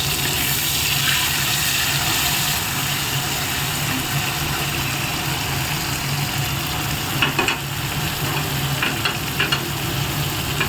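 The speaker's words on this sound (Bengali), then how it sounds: "পেঁয়াজটা দেওয়ার পর একটুখানি ভালো করে ভেজে নিতে হবে" Onions fry with spices in a pan, giving a steady, close hiss of sizzling oil that runs unbroken throughout, with a few faint clinks near the end and no talking.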